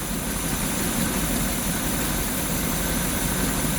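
A big block Chevy V8 with a Holley carburetor idles steadily in an older motor home, a loud, continuous rumble with hiss and no pauses from start to finish.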